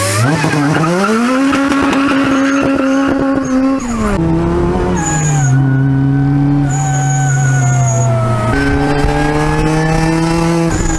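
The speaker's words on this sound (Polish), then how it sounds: "no jest niepowtarzalny dźwięk, który tylko jest znany właśnie z tych kompresorów" A supercharged widebody Honda Civic EG5 engine screams close by, its pitch climbing and falling through several gears with a whining, rising supercharger tone on each pull.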